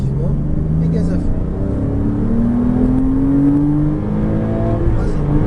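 A Porsche Cayman S on the Chenevières circuit accelerating at full throttle, a loud close engine drone with its pitch climbing steadily as revs build, heard from inside the car.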